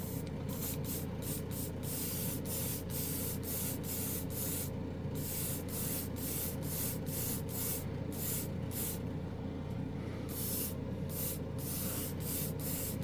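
A spray gun sprays Nocturne Blue anodized metal color paint in a steady, close airy hiss. Short bursts interrupt it throughout, with no talking.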